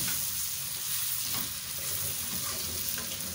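Green chillies and tomatoes sizzle steadily in a frying pan, with a constant broadband hiss of oil and faint stirring scrapes throughout.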